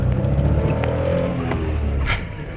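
A small Chevy Sprint Turbo hatchback's engine hums and buzzes loudly from close inside the car, holding a steady drone before easing off, with faint rattles and clicks on top.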